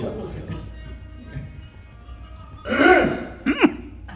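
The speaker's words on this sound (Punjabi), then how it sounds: "ਹੋ ਗਏ ਗਲਾ ਸਾਫ਼" After some murmuring voices in the background, someone clears their throat loudly and close up, with a rough rasp followed by a short second grunt.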